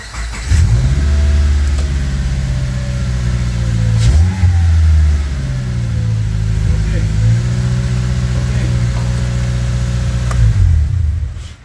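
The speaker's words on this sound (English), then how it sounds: "Car runs." A burned Subaru's engine idles loudly up close, revving up and down several times, with voices talking over it.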